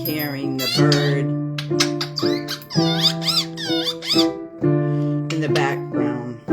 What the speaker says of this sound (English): you're going to be hearing the bird